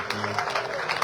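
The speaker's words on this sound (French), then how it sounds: "s'il vous plaît, sur vos applaudissements" An audience at an Haitian Embassy tribute event in Canada applauds the ambassador, a steady, dense clapping throughout a brief moment, moderately loud with a faint crowd murmur.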